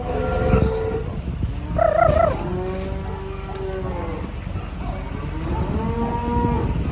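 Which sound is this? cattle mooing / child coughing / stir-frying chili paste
cattle mooing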